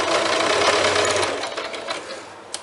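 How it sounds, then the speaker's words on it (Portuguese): A sewing machine stitches fabric for a tote bag with a loud, steady mechanical whir that slows and fades toward the end, followed by a couple of small clicks. "eu terminei de costurar, certo?"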